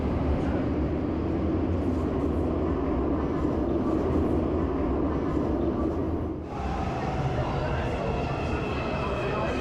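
An underground metro train runs at a deep station platform, a steady loud rumble and rush of the cars filling the space throughout, with a brief dip and shift in tone near the end as it moves.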